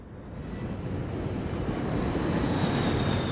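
An American Airlines Flight 1420 airliner descends through stormy weather, its engines a loud, steady roar that swells slightly toward the end, with no voices.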